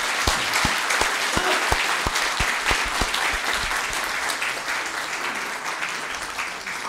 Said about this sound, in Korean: 다 함께 환영의 박수를